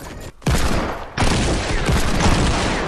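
Shotgun blasts in the video game Fortnite, a loud burst followed by a brief gap, then a second heavy sustained blast that roars on to the end.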